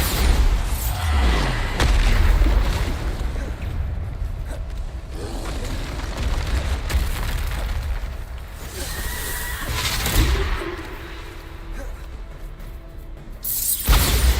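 In a video game, the Bombarda spell sets off an explosion, producing a dense, rumbling boom with crackling debris that keeps roaring steadily and swells again near the end.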